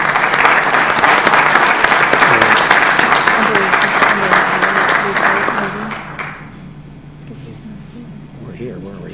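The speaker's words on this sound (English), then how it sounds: "So I think we ought to really give them a round of applause for what they took all their time to do." A round of applause at a California Transportation Commission meeting, many hands clapping steadily for about six seconds before fading out, leaving low room murmur and faint talk.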